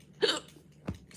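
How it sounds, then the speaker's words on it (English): A person hiccups twice, sharp and close, the first a voiced gulp and the second a quick lower catch about half a second later, in a quiet room. "This is hiccups, literally."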